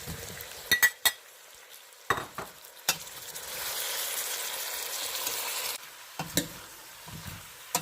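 Vegetables for pumpkin sambar, including carrots and tomatoes, are stirred in a pot with scattered spoon knocks and clinks, then a stretch of gentle hiss and sizzle, followed by more sparse taps; close and quiet.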